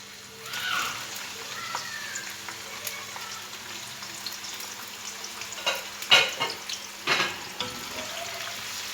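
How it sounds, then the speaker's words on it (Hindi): Sliced onion frying in hot oil in a pan, a steady close sizzle with soft crackles and a few louder spatters toward the end. "अब इस ऑयल में प्याज डाल दूँगी मैं।"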